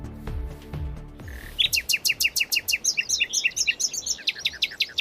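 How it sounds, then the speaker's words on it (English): A nightingale sings a clear, loud run of rapid repeated chirping phrases close by, beginning after a short stretch of low rumbling and tonal sound. "the sounds of a songbird, how to help the nightingale"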